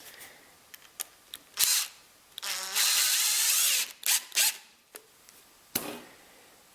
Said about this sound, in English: The countersink is about halfway through what remains of the golf ball.